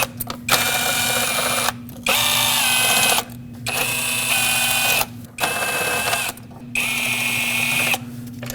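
Power tool whirring in several loud bursts of about a second each, separated by short pauses, as intake manifold Allen head bolts are broken free on a 2006-2015 Lexus IS250, with a steady low hum underneath.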